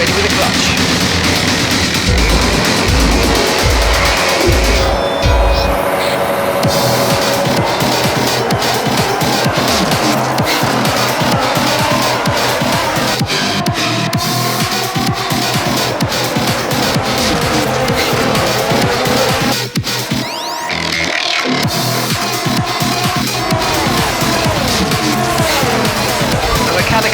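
Formula 1 cars in a racing video game launch off the grid at the start, engines screaming loudly and rising through the gears with tire squeal, a dense continuous roar that dips briefly near the end.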